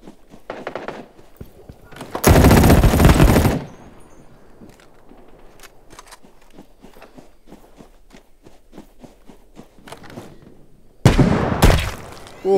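Sniper rifle shots and gunfire in the mobile shooter Battle Prime Mobile, with two loud, dense bursts of firing standing out against a quieter stretch of scattered clicks, thuds and footsteps.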